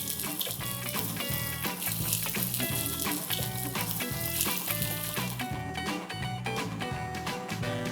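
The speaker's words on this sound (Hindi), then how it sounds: "मुठिया को क्रिस्पी करने के लिए हम इसे स्लो फ्लेम पे पकाएंगे" Steady crackling sizzle of methi palak muthia frying in oil over a slow flame, continuous and close, with a dense rhythmic patter running without a break and no talk.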